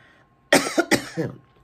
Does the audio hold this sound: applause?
no